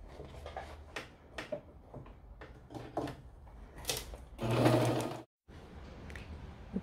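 Domestic sewing machine stitching a fabric shoulder bag, rapid bursts of mechanical clatter separated by short pauses, with a louder sustained run near the end before a sudden stop.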